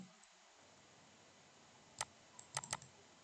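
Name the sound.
typing on a computer keyboard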